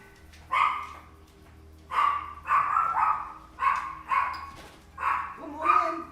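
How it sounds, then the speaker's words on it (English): Several dogs barking nearby in a string of loud, separate barks, about six in quick succession, with some yipping at the end. "Sorry about the dogs."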